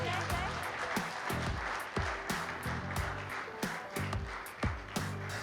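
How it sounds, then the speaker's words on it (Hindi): Audience applause at a Bollywood movie music launch event, with steady clapping behind thumping background music with a regular beat and no voices, moderately faint throughout. "जोरदार तालियां हो जाए."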